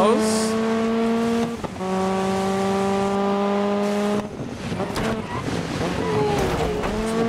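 Race cars in the DiRT 5 video game roar with sustained, high-pitched engines under throttle, the pitch holding steady then shifting, with gritty tire and surface noise rising in the final seconds.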